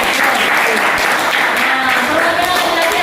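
A classroom of students claps together, a dense, loud burst of applause that fills the whole moment from start to finish.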